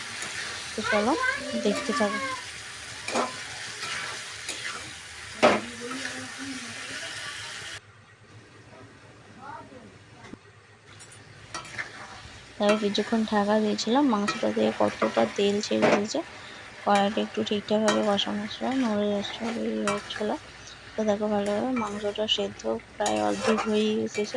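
Chicken pieces being sautéed with fried potatoes for a chicken curry, a spoon scraping and clanking against the pan with soft sizzling, under a voice talking through much of it.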